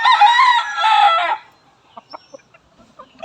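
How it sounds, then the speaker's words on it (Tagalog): A six-month-old stag rooster lets out a loud, close crow, then gives a few short, soft clucks after a brief pause. "ito yung stag natin. Nasa 6 months old na to."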